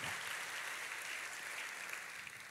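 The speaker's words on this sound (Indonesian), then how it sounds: "tepuk tangannya pula yang paling meriah buat Tuhan kita" A congregation applauds for God during an Indonesian church sermon, a steady wash of clapping from many hands, fairly soft and distant, continuing evenly throughout.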